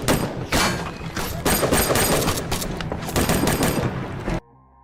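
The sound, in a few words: gunfire in a firefight between soldier teams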